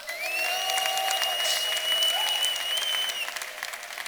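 A church congregation ululates and applauds together, steady dense clapping with high trilling ululation running through it for the whole stretch, loud and close.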